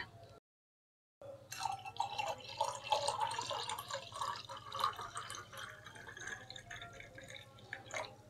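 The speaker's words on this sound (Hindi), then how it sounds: "तो एक गिलास में हम पानी डाल देंगे" Water is poured into a drinking glass while making a summer iftar drink, a soft trickling and splashing stream close by, quiet and steady after a brief silent gap, with no talk.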